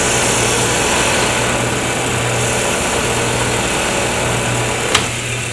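A wood lathe spins a pen blank under light cuts, giving a loud, steady motor drone with a faint rasp of the tool gliding back and forth and one brief tick near the end.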